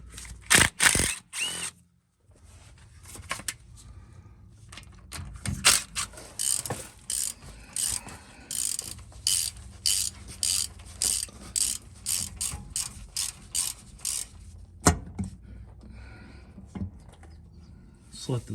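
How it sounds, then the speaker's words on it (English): A ratchet clicks out 10 millimeter bolts on the rear end cover of a Chevy Silverado 9.5 axle, in quick bursts of close metallic pawl clicking with short pauses, separated by sharper knocks and faint handling sounds. "Go ahead and remove all of these bolts."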